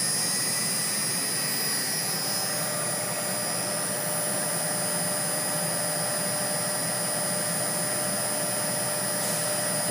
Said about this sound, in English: running the motor